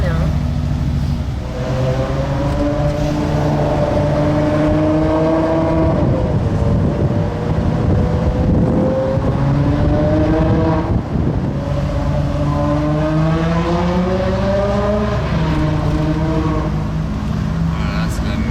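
A supercar with its exhaust valves open roars loudly and continuously, the engine note rising and falling through several revs, with a voice talking over it.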